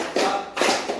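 A group claps in rhythm again during an ice-breaking exercise at a teacher training session, giving two quick bursts of claps close together, crisp and near, with no talking.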